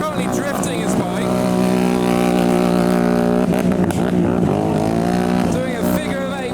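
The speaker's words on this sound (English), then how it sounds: "So Lee is currently drifting his bike" Stunt rider Lee Bauer drifts a motorcycle in a figure of eight, the engine wailing loud and close at high revs, with pitch swinging up and down as the throttle is worked, and a voice talking over it.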